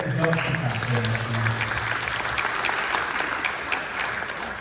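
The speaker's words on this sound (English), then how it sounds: "And so we can clap for that." Steady audience applause at a poetry reading, a dense wash of clapping from many hands that holds at an even level throughout.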